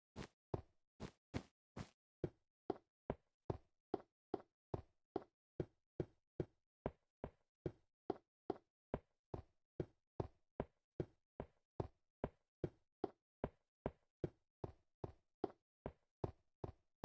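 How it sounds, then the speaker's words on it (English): A roof being replaced gives off a long, steady run of sharp, evenly spaced knocks, roughly two or three per second. The knocks are crisp and fairly near, over quiet surroundings with no talking. "That's the sound of the roof being replaced."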